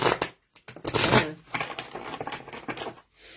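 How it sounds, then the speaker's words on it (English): Deck of cards being shuffled by hand at close range, with quick papery riffles and flutters in short uneven bursts, separated by brief pauses. "if I can get these to shuffle"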